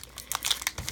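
The foil wrapper of a Pokémon card pack crinkles in short, sharp bursts as someone handles it close to the mic. The crackle lasts under a second and no one speaks.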